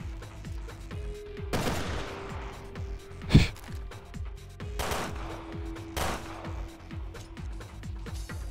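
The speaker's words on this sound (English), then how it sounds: "Wow, that magnum just ends them." Magnum revolver gunfire in the video game Resident Evil Revelations 2 Raid Mode, several loud, sharp shots spaced a second or so apart with ringing tails and a busy game soundscape beneath.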